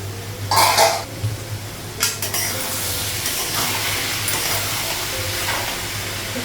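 A pot lid lifts off freshly cooked rice on a gas stove, giving a short metallic clatter and scrape near the start, followed by a few lighter kitchen knocks over a steady low hum.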